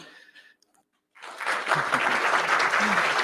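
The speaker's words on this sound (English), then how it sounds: "Everyone, please join me in a round of applause for every team that presented today." Applause for the presenting teams at a startup accelerator demo day: a short, near-silent moment with faint sound, then a full crowd bursts into loud, sustained clapping that continues to the end.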